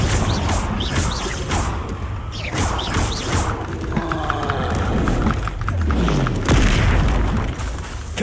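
Fire-blast spells in Hogwarts Legacy burst as repeated heavy booms and crashes, with whooshing swells and crackling debris between them, loud and close throughout with no speech.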